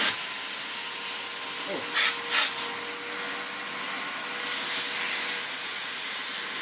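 A 1990s Panasonic MC-E53 upright vacuum cleaner runs on its maximum setting, a loud, steady broadband roar and hiss that holds throughout, with a brief voice and a couple of faint bumps partway through.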